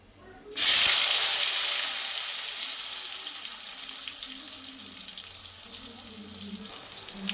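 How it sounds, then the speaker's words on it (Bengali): Potato and pointed gourd hit hot oil with a sudden loud sizzle that holds as a steady frying hiss and slowly fades, with faint crackles toward the end. "এই তেলে আলু ও পটল ভেজে নেব"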